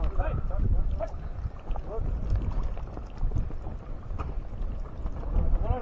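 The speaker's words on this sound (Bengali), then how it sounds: "একের পর এক ট্রলার এই মানে খালের মধ্যে আসছে" A fishing trawler chugging along a Sundarban canal, its steady engine rumble and wash running throughout, with people talking over it.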